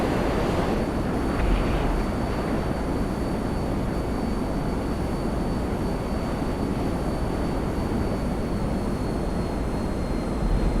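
A B-11 jet in GTA Online flies overhead with a loud, steady roaring rush of engine noise that holds constant throughout, close and with no voices.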